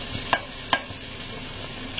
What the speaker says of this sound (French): je fais bien revenir mon oignon